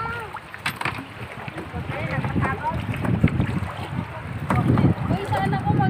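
Water splashes and slaps around a small boat amid wind buffeting as people board, with people talking nearby, at Pandan Island.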